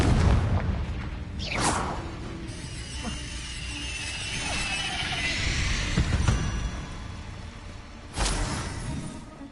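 Fire spells cast repeatedly in Hogwarts Legacy burst into several loud booming blasts, with sharp cracks near the start, middle and end over a steady rumbling battle backdrop.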